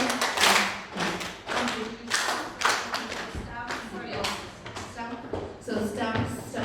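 Hands clap and slap against knees in a steady rhythmic pattern, two claps alternating with knee taps, close and crisp, with a voice talking over parts of it.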